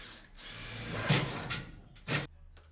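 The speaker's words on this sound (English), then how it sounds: "Drill the hole for the speaker wire." Short bursts of a power drill whir and bite into material, drilling a hole for speaker wire while installing an outdoor speaker, with brief pauses between, fairly close and moderately loud.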